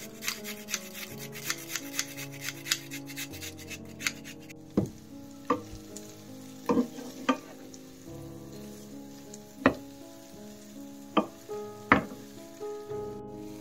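Broccoli frying in a pan with butter and garlic, stirred with a utensil: soft sizzling under a series of sharp scraping and knocking strokes, near and fairly quiet.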